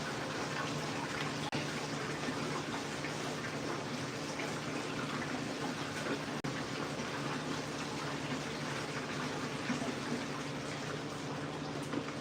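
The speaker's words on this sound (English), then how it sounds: "I'm gonna fill the last jug of water in the orange tower" Water runs steadily into a jug that will top up an orange hydroponic grow tower, a continuous even rush of pouring liquid at moderate distance, unbroken for the whole stretch, with no talking.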